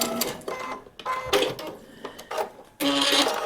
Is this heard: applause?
no